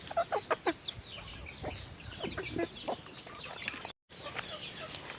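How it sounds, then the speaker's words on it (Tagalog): Chickens cluck close by in a rural hillside setting, a burst of sharp repeated clucks at the start followed by scattered softer clucks and calls. "Tapos ang mga manok nagpuli sa among gikanan."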